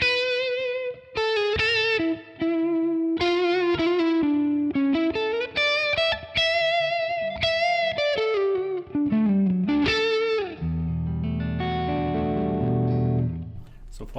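A Les Paul electric guitar plays crunchy, semi-driven riffs through a Tonex ONE amp capture from the Amp Kit II set, with reverb added. Melodic lines and chords ring out, and a final strummed chord decays into a reverb tail.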